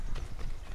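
Horse hooves clip-clopping in Assassin's Creed III, a quick run of close, rhythmic hoofbeats at moderate loudness.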